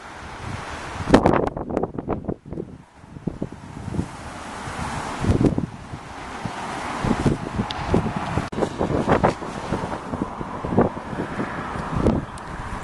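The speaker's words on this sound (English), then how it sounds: "It's really windy today." Strong gusty wind buffets the microphone in open countryside near puddled roadside and distant hills, roaring steadily with repeated louder blasts throughout, no voices present.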